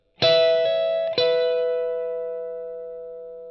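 An overdriven electric guitar plays a short lick of two-note chords with a hammer-on, restrikes, and lets the final chord sustain and fade.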